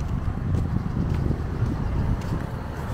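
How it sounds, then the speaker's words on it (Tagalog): Steady wind off the sea and river buffeting a microphone in Iloilo City, a low rumbling gusty roar throughout with no one speaking. "Mahangin, gawa siguro ng dagat tsaka yung ilog."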